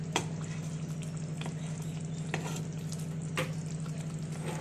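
Prawns going into a thickening, sizzling curry in a pan, a steady close frying hiss with a few soft spoon scrapes and clinks, no talk.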